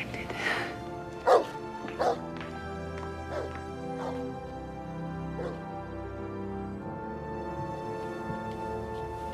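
A dog barks in a few sharp, loud bursts over a sustained musical score, with occasional whimpering yips between them and quieter stretches that follow.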